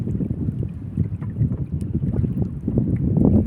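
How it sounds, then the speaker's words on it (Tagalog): Steady low, blustery wind of the northeast monsoon (amihan) rushing across the microphone, with gusts swelling and easing throughout; no voices. "Narinig yung hangin"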